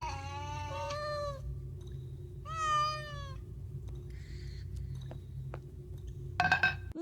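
Several cats meow in turn, a few drawn-out wavering cries separated by pauses, over a low steady background rumble with a brief clatter near the end.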